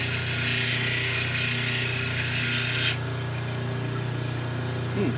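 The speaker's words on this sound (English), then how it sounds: "Try grinding away on the heel a little bit up here." A rotary tool grinds a gnarly gray shell piece, working the heel area to shape and polish it into a pendant, giving a steady, close high-pitched whine with a motor hum beneath that drops in brightness partway through.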